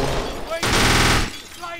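AK rifle gunfire in the video game Kane and Lynch 2, a loud sudden burst of automatic shots lasting about half a second amid game sounds.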